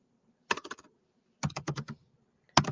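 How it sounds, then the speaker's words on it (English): Quick bursts of keystrokes on a computer keyboard, three short clusters of crisp clicks separated by silence, close and isolated with no talk. "once you start typing"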